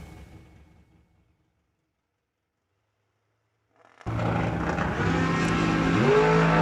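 A drag racing dragster launches after a quiet lull into a loud, sustained roaring engine that fills the air with a rising tone, following fading background noise from a prior run at a drag strip.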